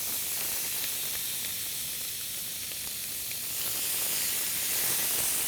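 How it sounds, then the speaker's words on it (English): Chicken sizzles loudly in a very hot grill pan in a Gozney pizza oven, a continuous bright hissing fry that swells slightly toward the end, heard alone and close. "listen to that sizzle"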